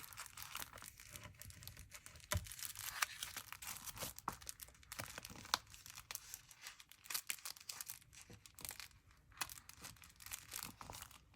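Sheets of mulberry paper crinkle and rustle while being handled, giving soft, irregular crackles and rustling bursts that come and go, close by and quiet, with no talking.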